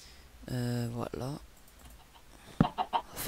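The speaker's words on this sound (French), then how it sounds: "Fermez là les poulets là." Minecraft chickens cluck from the game, a drawn-out squawk followed by short clucks, mixed with keyboard clicks while someone speaks French over it.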